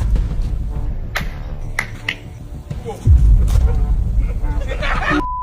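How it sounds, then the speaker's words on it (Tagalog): Scattered sharp hand claps from a casual Filipino group gathering, several irregular claps over a busy noisy background with voices and some handling rumble, close and fairly loud. "Palakpak na lang, palakpak!"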